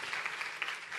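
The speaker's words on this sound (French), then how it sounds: "vous pouvez vous applaudir" Brief audience applause at a live radio showcase concert, a steady patter of clapping hands without voices.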